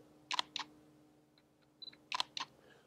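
A Fuji X-T1 mirrorless camera's mechanical shutter fires twice, each a crisp, close double click, with faint button ticks between the pairs in a quiet room.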